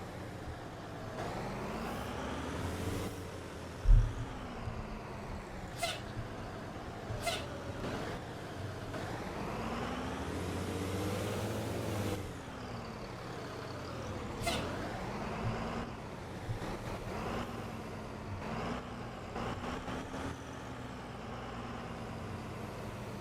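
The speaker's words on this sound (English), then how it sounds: "I do love the air brake sound in here." A Blue Bird TC2000 school bus in the Rigs of Rods driving simulator whines and drones as its engine rises and falls. Several short, sharp hissing air brake bursts cut through, with one louder thump early on.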